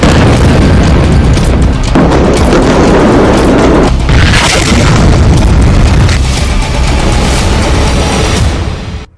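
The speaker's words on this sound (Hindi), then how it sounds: "अब इजरायल गाजा पर टैंक से हमला कर रहा है" Explosions from an Israeli tank attack on Gaza, a series of heavy booming blasts and rolling rumble that stay loud throughout before cutting off abruptly.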